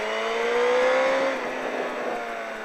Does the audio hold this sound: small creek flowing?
no